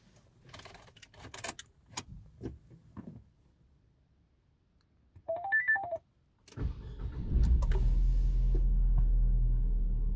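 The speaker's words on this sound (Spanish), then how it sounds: "Por último, arrancan el motor de su auto." A car starts after its battery terminals are reconnected: some clicking and jingling, a brief electronic chime, then the engine cranks and catches into a steady low idle close by.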